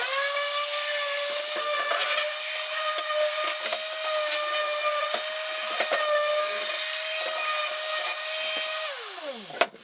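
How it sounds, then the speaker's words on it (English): Electric power sander running steadily while lightly sanding the sharp wooden edges of a camper bench, a loud continuous whine with small scraping variations, winding down at the end; no talking. "I want to get my sander, and I'm going to just go lightly around these edges"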